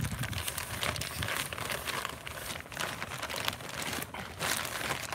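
A plastic bag of topsoil being ripped open outdoors, with continuous crinkling and tearing of the plastic in uneven bursts, fairly faint and close, with no talk.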